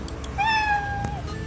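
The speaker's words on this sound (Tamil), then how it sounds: "அந்த பூனை கத்துற சவுண்டு இங்கே ரெக்கார்ட் ஆகிருக்கும்." A recorded cat meow played back inside a Scratch programming project, one drawn-out meow rising and holding before fading, moderately loud over a faint background hiss with no talk.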